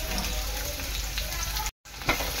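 Onion and curry leaves hitting hot oil for mushroom masala, a loud continuous sizzle close by, briefly cutting out before resuming with a crackling burst.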